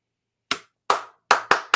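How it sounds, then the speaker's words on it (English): Five sharp, isolated hand claps from one person, each a crisp close slap with a short ringing tail, spaced unevenly and quickening toward the end, with silence between them. "You guys deserve the Mick Jagger clap."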